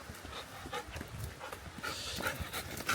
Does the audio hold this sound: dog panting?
yes